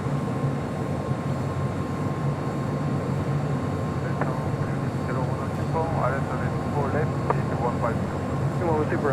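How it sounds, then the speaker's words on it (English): A Korean Air Airbus A380 arriving at LAX, its engine roar a steady broadband rumble throughout, with a person talking over it in the latter half. "our next arrival on the north side is the Korean Air A380 Super,"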